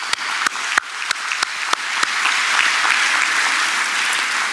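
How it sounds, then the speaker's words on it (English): Audience applause at the closing ceremony of the AfDB 2023 Annual Meetings, a burst of sharp claps building into a sustained, loud wash of clapping from a large crowd. "please, for my sake, one more big applaud for them"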